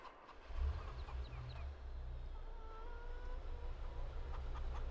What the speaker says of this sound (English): We now have chickens.